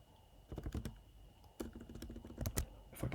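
Computer keyboard typing while writing Swift code: bursts of rapid, close key clicks in uneven clusters with short pauses between, crisp and fairly quiet, with no talking.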